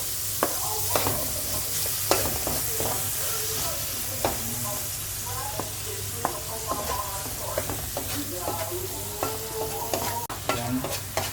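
Shrimp paste frying with onion, garlic and tomato, a steady sizzle under repeated scraping and stirring of the pan, close and continuous, with faint voices at times.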